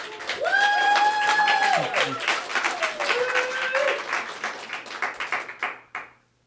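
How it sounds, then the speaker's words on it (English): Steady audience applause at a book-tour literary reading, dense clapping under cheering voices and short vocal whoops, which tapers off and fades near the end. "Let's have another round of applause for Leah."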